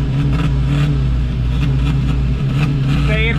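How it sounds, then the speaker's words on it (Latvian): A loud car engine roars and revs steadily with a deep rumble throughout, while voices chatter underneath at a motor show. "Te ir ko redzēt, ir skaļi, skaisti, jaudīgi auto."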